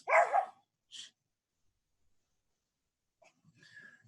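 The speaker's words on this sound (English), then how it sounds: "Probably hearing my dog in the background." A dog barks in the background of a home recording, one sharp bark followed by a shorter one, then faint yips and whimpers after a pause, with no talking.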